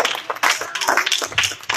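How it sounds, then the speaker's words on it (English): A church congregation claps along in uneven bursts of hand claps that come and go across a short stretch, with little talk over them. "Come on here, clap those hands. Clap them."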